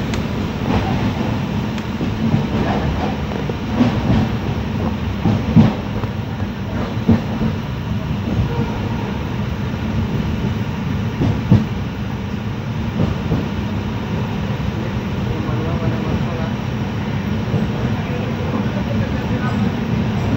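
A passenger train on the long route from Bangalore to Assam, near Kamakhya Junction, rumbles steadily along the rails with faint clicks, a continuous close mechanical roar that holds throughout.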